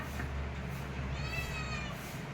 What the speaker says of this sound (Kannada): ನೋಡಿ ನಮ್ಮ ಕ್ಯಾಟ್ ಹೆಂಗೆ ಬರುತ್ತೆ ನೋಡಿ ಈಗ